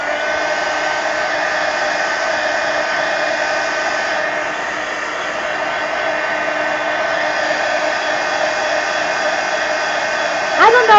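A hair dryer blows hot air to dry paint on an art journal made from an old typewriter book, a loud, steady whir that runs unbroken close to the microphone, ending with a brief scrape.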